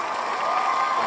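Audience crowd at a live comedy show applauding and cheering in a steady, dense wash that runs without a break.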